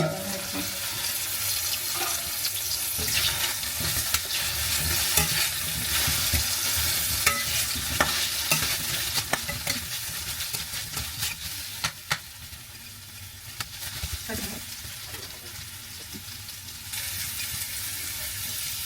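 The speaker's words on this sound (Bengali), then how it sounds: "আলু ভাজা হয়ে গেছে এখন নামাই দেবো" Potatoes sizzle in a pan, a steady frying hiss under sporadic stirring clinks and scrapes, with faint talk now and then.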